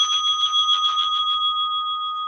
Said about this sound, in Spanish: Vamos a cerrar entonces esta meditación con el sonido de la campana